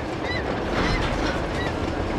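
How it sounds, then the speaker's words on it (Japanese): A train rolls along mountain tracks in the video game Uncharted, giving a continuous rumbling roar with a faint rhythmic clatter and occasional thin squeals, steady and fairly loud throughout with no talk. "ちゃんとあの電車の上下とかカーブとかそういうのも忠実に再現されてますね"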